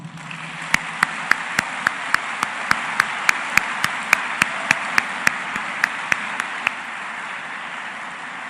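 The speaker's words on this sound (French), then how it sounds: "mérite d'être saluée par un tonnerre d'applaudissements" Steady rhythmic clapping at a graduation ceremony, about twenty sharp even claps over a constant background hum, then the claps stop.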